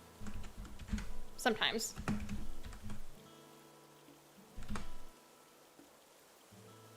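Short runs of computer keyboard typing, close and fairly quiet, pausing between bursts, with a brief spoken word mixed in and faint game music underneath.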